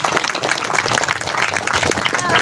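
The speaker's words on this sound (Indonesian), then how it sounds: "Kita berikan tepuk tangan buat Pak Faisal Basri." A crowd at a political gathering claps for Pak Faisal Basri, loud and close with individual claps standing out amid a busy, uneven roar.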